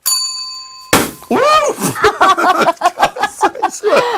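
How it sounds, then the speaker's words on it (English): A golden buzzer bell rings out with a clear, sustained chime on a show, then cuts off into a burst of laughter and chatter close by. "We got the golden buzzer."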